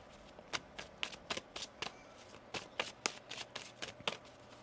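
Tarot cards are shuffled by hand in a series of quick, crisp riffles and snaps, close and fairly quiet, with no voices.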